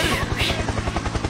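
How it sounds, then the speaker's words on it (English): A helicopter in a Roblox video game gives off a loud, fast rhythmic rotor chop over a steady engine drone for a moment, with a faint voice mixed in. "Or we could do helicopter"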